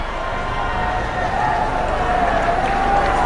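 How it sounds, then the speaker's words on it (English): Spectators and teammates applauding a batsman's fifty at a Bangladesh v West Indies Test match, a broad, distant wash of crowd clapping and noise that swells slightly toward the end. "Good round of applause from the spectators and his teammates."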